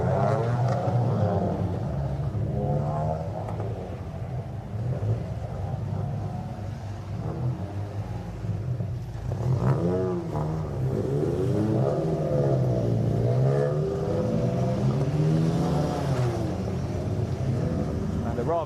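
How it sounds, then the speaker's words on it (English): Ford Fiesta race cars of the BRSCC Fiesta Junior Championship head out for qualifying at Snetterton. Their engines rumble and rev in rising and falling sweeps as they pass, under steady commentary. "The cars are going to head out on track"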